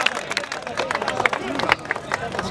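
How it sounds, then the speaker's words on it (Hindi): A crowd claps at a kabaddi trophy ceremony in Punjab, with scattered applause and crowd noise running under a loud announcer's voice for the whole stretch. "भाई जोरदार तालियां मार दो"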